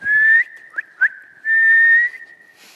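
A person whistles clearly and close by, holding two long steady notes with two short chirps between them. No one talks.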